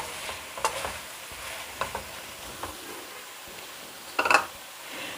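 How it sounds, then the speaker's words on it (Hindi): Chicken tikka macaroni ingredients with sliced capsicum being stirred in a pan, a faint background sizzle broken by a few soft scrapes and one louder clatter of the spoon near the end. "इसको अच्छे से मिक्स करूँगी मैं।"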